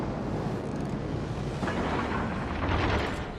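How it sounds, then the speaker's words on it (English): A torpedo strikes a ship in World of Warships, a heavy, rumbling explosion that swells and hangs over a constant roar of battle noise, without speech. "That torpedo hit."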